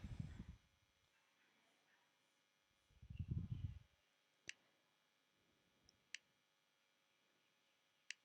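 A computer mouse clicks while drawing in SketchUp: a few sharp, isolated clicks spaced seconds apart in a quiet room, after two low dull thumps.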